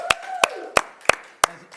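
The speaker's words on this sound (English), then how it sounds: "Barbara, can we have a round of applause for Barbara, please?" A few sharp hand claps in an even rhythm, about three per second, ring out close and distinct over a faint background hum at a live hobby event.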